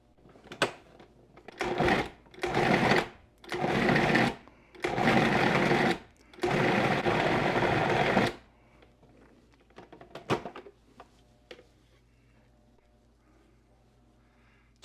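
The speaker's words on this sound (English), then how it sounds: "This is a really nice food processor. It's a Cuisinart. It's quiet," Cuisinart food processor grinding seasoned bratwurst meat in several loud pulsed bursts of motor whir, each a second or two long and the last running longer, followed by quieter clinks and handling noises.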